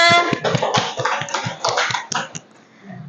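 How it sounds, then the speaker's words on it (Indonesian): At a teacher-training gathering in Tanah Laut, a small group claps in a crisp, rhythmic beat of distinct, nearby hand strikes that fades out near the end. "tepuk tangan dulu untuk kita semua"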